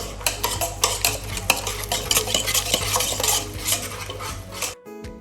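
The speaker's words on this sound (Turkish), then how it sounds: "Şimdi kremayı yaptıktan sonra çikolatamızı ve tereyağımızı ekliyoruz. Eriyene kadar karıştırıyoruz." A spoon stirs chocolate and butter into cream in a pot until they melt, making steady close scraping and clinking against the metal with a constant low hum underneath, then stopping abruptly near the end.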